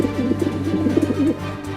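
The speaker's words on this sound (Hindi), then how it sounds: "कबूतर की आवाज आ रही है" A cartoon pigeon coos in a soft, throaty, bubbling rhythm for about a second, close by, then stops over a low steady hum.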